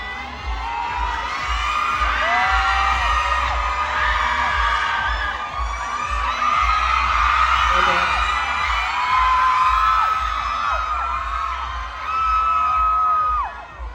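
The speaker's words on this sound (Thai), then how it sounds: "ขอเสียงปรบมือด้วยนะครับ" A fan meeting audience in Thailand erupts in sustained cheering and excited high-pitched screaming, loud and continuous throughout, with a crowd roar underneath.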